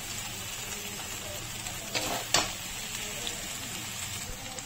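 Masala of turmeric and crushed red chilli frying in oil for bhindi, a faint continuous sizzle with a couple of brief louder crackles, close but quiet.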